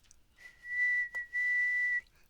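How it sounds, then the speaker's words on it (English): A person whistles a single sustained steady tone, briefly broken in the middle, close and clear against a quiet background. "It's like the best whistling I can do right there."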